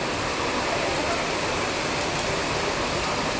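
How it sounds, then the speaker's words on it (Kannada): Heavy rain pours down in a steady, dense hiss that stays at an even loudness from start to finish, with no other sounds standing out. "ಎಷ್ಟು ಜೋರಾಗಿ ಮಳೆ ಬರ್ತೈತೆ ನೋಡಿ."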